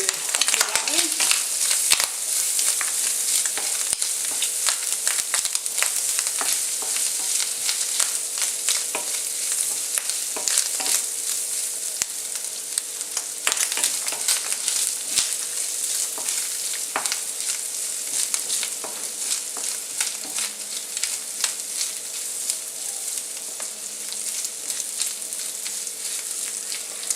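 Bacon frying in a pan, a steady close sizzle with dense crackling and popping spits of fat throughout, carrying on evenly without pause.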